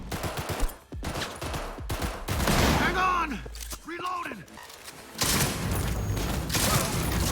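Shotgun blasts and combat in the video game Cyberpunk 2077, repeated booming shots and crashes over continuous game sound, with someone talking over the action.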